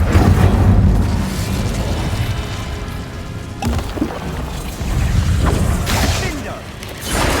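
An Incendio fire spell is cast in a Hogwarts wizarding video game, giving loud whooshing fiery bursts, with two sharp flare-ups standing out over a dense, rumbling wash of battle noise, while a voice speaks now and then.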